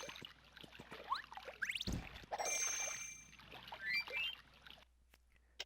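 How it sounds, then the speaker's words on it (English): A small bell chime sound effect from the Paper Mario video game menu for attack FX, ringing as short bright tones among other game sounds and brief chimes, ending in near silence. "It gives us the little bell."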